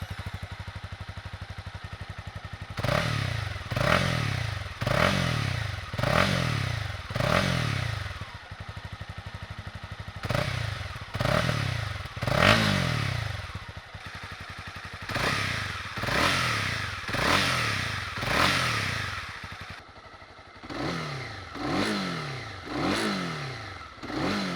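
A 2022 Honda CB300R naked sport bike fires up and idles, then is revved in a series of sharp throttle blips, about five quick rises in a row, with pauses of idle between further bursts. The engine is close and loud, with no talking.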